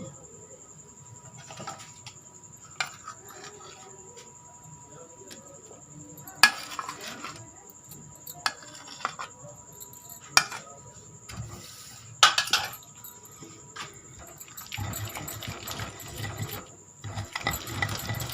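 Tamarind goes into mint chutney in a bowl and gets stirred, giving sparse spoon clinks and scraping taps against the bowl, fairly close, with a soft rustling stretch near the end and a faint steady kitchen hum underneath.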